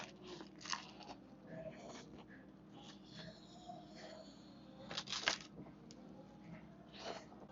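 Bites into a crispy, toasted New York-style pizza slice at a Manhattan slice shop, a few close crunchy bites followed by soft chewing, quiet overall with brief louder crunches.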